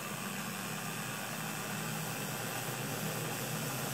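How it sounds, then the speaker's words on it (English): IBM Electromatic electric typewriter motor turned up to a higher speed, giving a steady, even hum with broadband whir, constant and close throughout with no talking. "let's turn the motor speed up"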